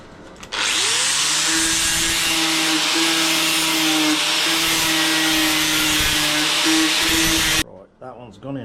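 An angle grinder working down a welded steel tube join, a loud, steady high-pitched whine and grinding hiss lasting several seconds before cutting off abruptly, followed by brief talking.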